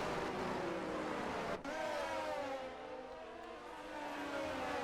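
Ferrari race cars in a racing video game at a Portugal round, engines droning steadily with a rising whine of cars running close together, a brief dip in the middle, no talking over it.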